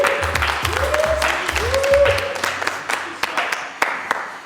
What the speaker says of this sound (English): So Simon, I'd like to give you a nice round of applause.